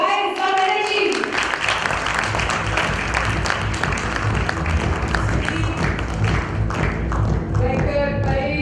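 An audience applauding at a panel discussion, sustained crowd clapping throughout with a voice speaking over the start and fading in again near the end.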